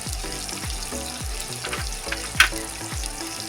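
Spices, chilli, turmeric and chilli powder sizzle in hot oil for potol dolma, a steady close frying hiss with repeated stirring scrapes and a small clink, no talking.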